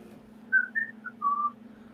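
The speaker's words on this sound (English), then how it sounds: "As he whistles" A man whistles a short melody of a few clear, sustained notes in two phrases, moderately loud and close, over a low steady hum, performed while holding bubbles during a magic trick.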